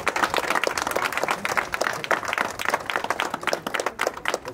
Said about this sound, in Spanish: Un aplauso para este rico bendecido.